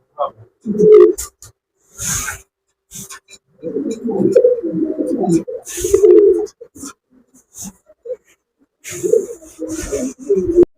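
Lahori pigeons cooing in repeated soft, throaty bursts close by, with short pauses between calls and occasional rustling.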